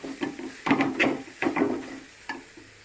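A carrot and beetroot fry being stirred in a pan, with several scraping strokes of the spatula over a soft sizzle, heard up close.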